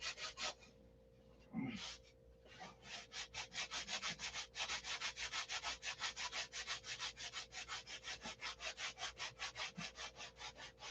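Surface being sanded flat by hand with rapid, even back-and-forth strokes, rhythmic rasping repeated dozens of times, close but quiet, with a steady low hum beneath.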